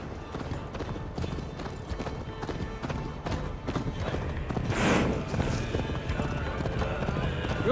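Horse hooves clop and gallop steadily under lively game music and effects in Assassin's Creed Valhalla, with a brief whinny partway through and voices speaking over it.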